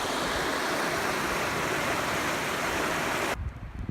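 Creek water at Bear Flat Campground in Arizona rushes in a steady, loud broadband wash that cuts off abruptly near the end, leaving quieter low rumbles.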